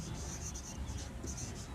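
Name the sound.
writing on the board during a lesson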